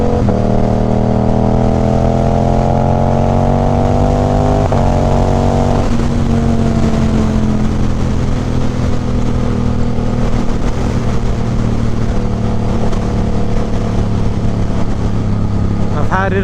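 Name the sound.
motorcycle aftermarket exhaust revving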